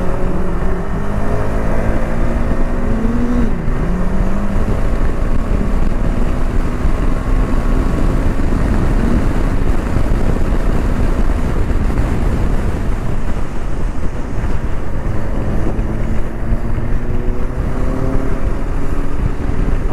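A Kawasaki Z800 motorcycle engine drones at speed on a ride through Wayanad, its wavering tone heard from just behind and partly buried under steady, heavy wind rush across the microphone.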